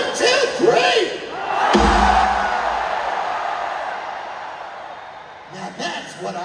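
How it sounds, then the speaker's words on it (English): A huge arena crowd at a concert in Manchester roars and shouts in a loud sustained wave that swells and slowly fades, with a voice calling out over it at the start and end. "Now that's what I call a crowd."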